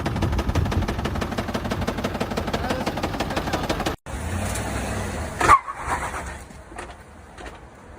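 A Ford Power Stroke diesel pickup truck engine clatters at idle with a rapid, regular knock, then the sound cuts and shifts to a muffled rumble with some rustling.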